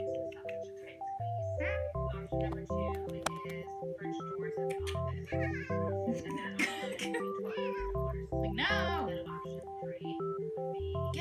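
A cat meows and caterwauls in short bursts while being wrestled, the cries mixed with voices over a steady background of electronic music tones.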